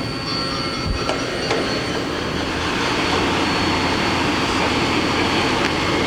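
A Mori Seiki NL3000Y CNC turning center runs its spindle at 1,000 RPM, a loud steady broadband whir and hum that holds without a break, with a thin high tone on top and a couple of faint ticks.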